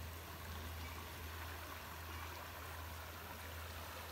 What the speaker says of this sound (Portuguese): Vocês se percebe que tá chegando água no riacho?